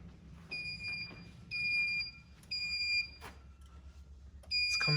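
Repeated high electronic beeps from a malfunctioning fire alarm panel in an abandoned hospital in Blue Island, Chicago, sounding in bursts about a second long with short gaps, moderately loud in a quiet room.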